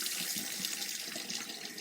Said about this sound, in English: I fill up these 3 glass bottles with water